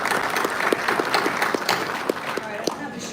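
Applause from an audience at a leadership training panel during an industry vendor day, a steady wash of clapping with a few sharper individual claps standing out, moderately loud and continuous throughout.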